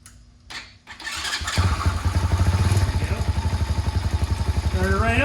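A 141cc big bore motorcycle engine cranks with a few clattering turns, then catches and settles into a loud, close, rapidly pulsing idle with a faint voice partway through.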